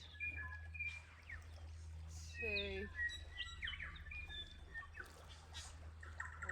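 Birds sing and chirp on a morning, with varied tweets and trills scattered throughout over a low steady hum, while a voice briefly counts.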